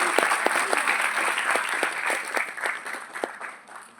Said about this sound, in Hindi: तो उनके लिए मेरी तरफ जोरदार तालियां।